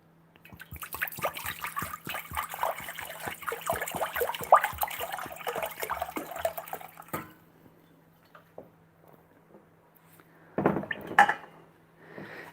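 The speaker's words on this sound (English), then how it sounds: "here I have just some cold water, and I can just pour it in here." Cold water is poured into a container during homebrewing, giving about seven seconds of gurgling, splashing flow with uneven glugs. A short silence follows, then a brief second splash near the end. No one speaks.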